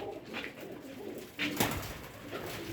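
A blue-green pigeon coos quietly at close range, a few low soft calls with no talk over them.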